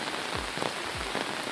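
Steady rain falls on a surface during a rainy day in a rural Odia village, a dense even patter with occasional heavier drops, close and continuous with no voices.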